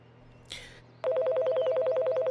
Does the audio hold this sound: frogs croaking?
no